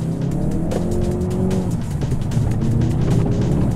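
A Ford Focus RS in drift mode roars steadily at high revs while its tires squeal and scrub. The engine stays loud and close throughout, with no talking.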